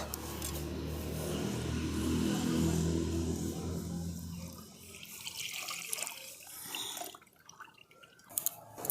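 Milk is poured into a pan set on a lit stove while making homemade sweet curd, a continuous splashing, gurgling pour that is loudest early on, then tapers into scattered drips and small clinks, with no talk.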